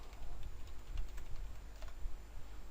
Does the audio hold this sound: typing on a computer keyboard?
yes